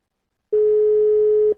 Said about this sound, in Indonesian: Yuk kita telepon, mana dia?